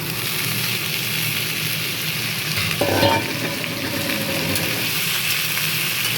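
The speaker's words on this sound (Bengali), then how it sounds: "দেখো কিছুটা ভাজা ভাজা হয়েছে, এবার আমি বরবটি আর আলুটা দিয়ে দিচ্ছি।" Yardlong beans and potatoes go into a pan of hot oil and fry with a steady, close hiss. A brief louder burst of sizzling and stirring comes midway, then a constant crackle continues.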